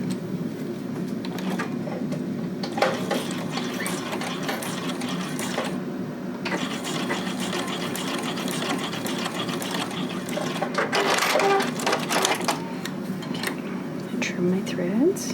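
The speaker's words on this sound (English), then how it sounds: "I'm going to sew 1/4 inch seam, just using a regular straight stitch." A sewing machine runs a quarter-inch straight-stitch seam through elastic, a fast steady mechanical whirr that stops and restarts in bursts, with a voice talking faintly at times.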